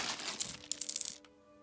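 Coins drop and jingle in a couple of quick bright metallic clinking bursts, each with a short shimmering ring, fading to a faint tone at the end.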